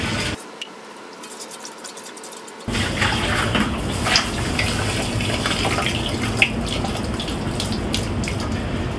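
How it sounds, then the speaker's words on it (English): Water sloshing and pouring out of a water softener tank during resin replacement, a steady broadband splashing gush near the microphone, starting after a brief quieter moment and continuing throughout with small clunks. "slosh it around, and dump it out until everything's out."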